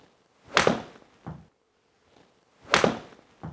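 A golf club striking a golf ball on a practice setup: two sharp, fairly loud impacts about two seconds apart, each followed by a softer, shorter knock, with silence in between and no speech.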